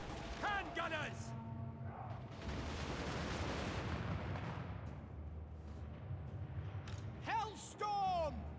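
Empire handgunners in Total War: Warhammer 2 fire a volley, a dense rolling burst of gunfire that swells, holds for a few seconds and fades, with shouted voices before and after.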